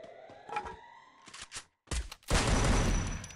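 Gunfire in the mobile battle-royale game Free Fire: a few separate shots, then a dense, loud sustained volley of rapid fire that fills the final second, with no talking over it.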